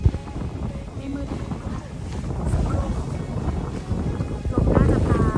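Wind buffets a campsite beside a lake among mountains, rumbling and gusting loudly against the microphone while people talk nearby.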